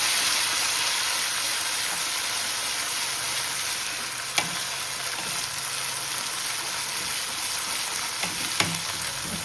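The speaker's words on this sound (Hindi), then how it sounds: "अभी इसके अंदर हम लोग डालेंगे अदरक लहसुन का पेस्ट और इसको अच्छे से भूनेंगे।" Browned onion with ginger garlic paste fries in a pan, a steady dense sizzle with a few spoon clicks, close and loud throughout.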